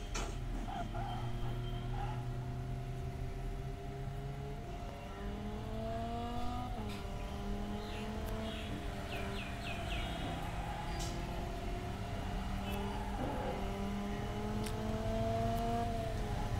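Race car engines in the Assoluto Racing video game drone and rev steadily, pitch rising and falling through gear changes. The engine sound is loud and continuous, with faint chirps layered over it and no talking.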